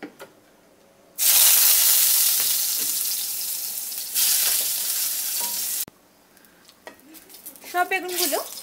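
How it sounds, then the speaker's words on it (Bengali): Eggplant slices sizzle loudly in hot oil for a Bengali brinjal curry, a broad hiss that jumps up after a quiet start and cuts off abruptly near the end, followed by softer clinks and a brief voice. "বাদ বাকি যে বেগুনগুলো আছে সেগুলোকেও আমি ভেজে নিচ্ছি"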